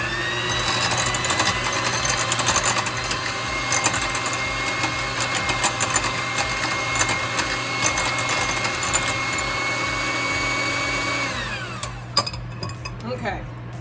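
An electric mixer whips loaf batter ingredients for mini lemon blueberry loaves, running with a loud steady whirring drone and rattling against the bowl for about twelve seconds before switching off, leaving quieter clatter.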